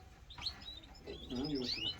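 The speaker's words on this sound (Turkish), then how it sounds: "Bu her yer kuş." Gloster canaries kept in a shop chirp in short bright bursts, faint and somewhat distant, with a quieter lower call near the end.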